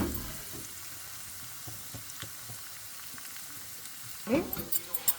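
Steady, quiet sizzle of tempering spices frying in hot oil for spinach dal, with soft stirring clicks throughout and a few louder scrapes near the end.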